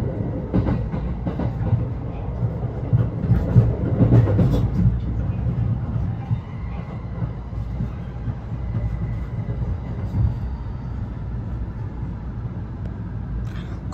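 A Joban Line train runs toward its stop at Tsuchiura, heard from inside as a steady low rumble with faint rail clatter and a brief louder burst early on, continuous and fairly close.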